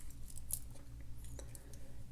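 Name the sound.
Swiss Army knife scissors being handled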